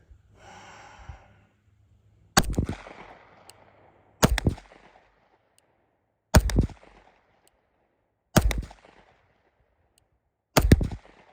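Slow, deliberate shots from an OA Defense 2311 Compact Pro pistol at steel targets on an outdoor range, five sharp loud reports spaced about two seconds apart, each with a short ringing decay, after a brief breath at the start.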